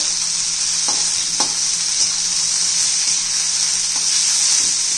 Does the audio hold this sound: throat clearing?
no